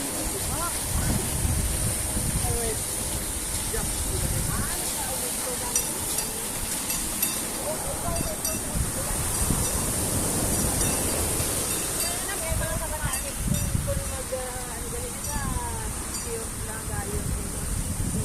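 Water overflows during heavy rain in a residential subdivision, a continuous rushing wash with wind buffeting the microphone, while people talk over it throughout.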